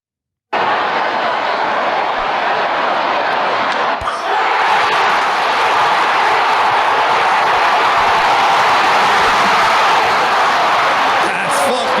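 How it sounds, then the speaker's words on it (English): A big baseball stadium crowd at a 2023 MLB Wild Card playoff game roars loudly and without a break, a dense wall of cheering with a few sharp bangs and claps in it. "listen to this crowd"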